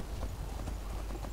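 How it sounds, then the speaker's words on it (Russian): Horse hooves clip-clop at a steady pace in the video game Skyrim, moderately close over a low rumbling game soundscape. "Какая лошадка, а?"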